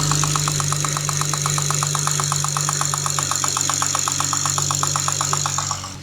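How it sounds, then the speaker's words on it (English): A turbocharged BMW engine idling with a slight knock, a steady mechanical hum overlaid by a fast, even ticking rhythm, loud and close, easing off just before the end. "So there is a slight knock that I can hear, and it does go up with RPMs."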